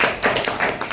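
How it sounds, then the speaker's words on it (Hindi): Audience at a speech clapping in brief applause, a quick run of sharp overlapping claps in a room, fairly loud and close, with no talk over it. "एक बार ताली बजाइए सबके लिए।"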